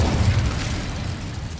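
A burst from the Incendio fire spell in a Harry Potter video game, a loud, sustained roaring blast of flame that stays steady and full for over a second.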